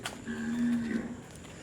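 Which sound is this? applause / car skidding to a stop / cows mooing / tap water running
cows mooing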